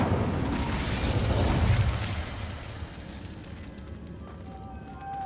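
A fire spell cast in the Hogwarts Legacy video game gives a broad whooshing, roaring burst that swells over the first two seconds, then trails off into a quieter crackling hiss.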